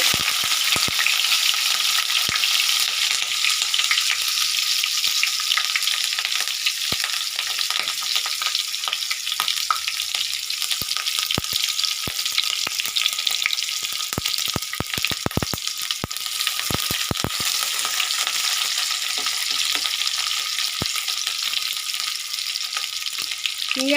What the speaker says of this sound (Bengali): পেঁয়াজ তেজপাতা জিরে একটু ভালো করে ভেজে নেব